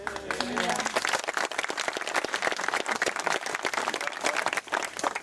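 An audience applauds steadily after an anti-HS2 speech to Warwick Council, a dense wash of many hands clapping close by that carries on throughout.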